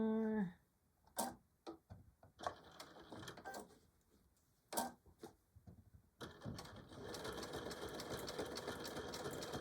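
A sewing machine stitching denim for a cell phone jean pouch: several short, stuttering bursts of stitching with pauses, then a steady continuous whirring run, close and clear with no talking.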